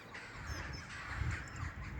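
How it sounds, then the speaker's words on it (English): Crows cawing repeatedly, a dense overlapping chorus of harsh calls from several birds at moderate distance, steady throughout with no talking. "Can you hear those crows?"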